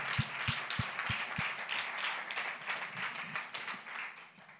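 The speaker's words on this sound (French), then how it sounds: "Est-ce qu'on peut les applaudir un petit peu?" Church congregation applauds the volunteer teams, a broad patter of many hands clapping at moderate distance, with a few sharp rhythmic low thumps at the start and the applause gradually thinning.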